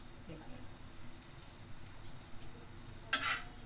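Oil sizzles faintly in a pan as an aloo paratha fries, the low hiss building into a brief, louder burst of crackle near the end.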